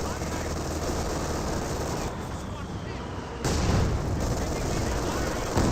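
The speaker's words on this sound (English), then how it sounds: "And now here comes some more Katyusha barrages right now in." A Katyusha rocket barrage pounds away in Company of Heroes 2, a continuous roar of explosions and crackling impacts. The din dips briefly, then a fresh heavy burst of blasts hits even louder.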